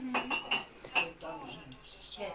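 Metal cutlery clinks and scrapes against plates during a meal of fried potatoes with a cutlet, a few sharp taps close by followed by softer scraping, with faint voices nearby.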